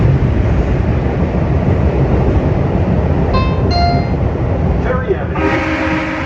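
A refurbished PATCO Speedline automated train, America's oldest, running with passengers aboard, a loud continuous rumble of wheels and motors heard from inside the car, with brief tonal whines and chimes near the end.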